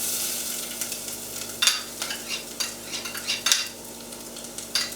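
Mustard seeds, fennel seeds and ginger sizzle in hot oil as a soft, steady fry, with the occasional clink and scrape of stirring over it, no voices.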